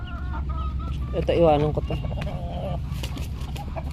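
Parawakan and native chickens clucking close by in a backyard flock, a burst of excited rapid clucks amid scattered calls, with someone talking over them.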